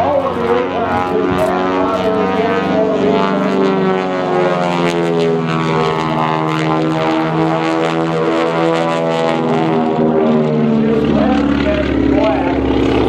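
A Twin Beech 18 twin-engine airplane in black Art Deco paint flies at an airshow, its steady, loud propeller drone holding throughout with slowly shifting pitch.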